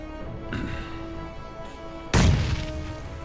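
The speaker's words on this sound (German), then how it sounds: "Die Granate explodiert ist." A grenade goes off in the video game PUBG: one sudden, heavy boom that hits after a stretch of low background noise and then trails off in a rumbling tail.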